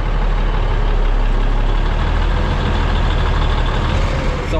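Semi truck engine rumbling close by while pulling against a trailer to test the kingpin lock, a loud steady low diesel drone with a faint squeak at the end, no talking.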